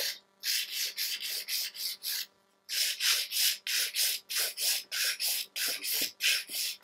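A file smooths and thins a glitter nail in quick, even back-and-forth rasping strokes, about a dozen and a half in all, close and soft, with one short pause partway through.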